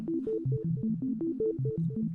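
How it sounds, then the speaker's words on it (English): Clean, pure sine-wave tones from a UDO Super Gemini synthesizer play a quick repeating pattern of short notes, steady and moderately loud, with no voices. "Basic sine wave there"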